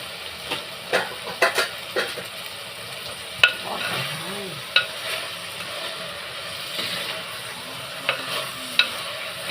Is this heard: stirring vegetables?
yes